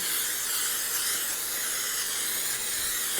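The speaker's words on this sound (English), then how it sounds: "I'm going to take Pam and spray this real good" A steady, broad hiss of Pam aerosol cooking spray coating a pan runs continuously for a few seconds, fairly loud and close, with no talking.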